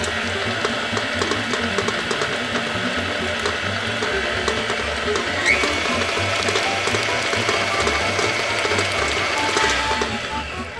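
A stand mixer creams snickerdoodle dough and beats in an egg, giving a steady close whirring and rattling churn with a ratchety, gear-like clatter that runs evenly throughout with no talk.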